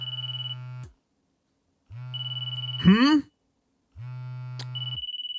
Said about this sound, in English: I can hear a ringtone in here somewhere.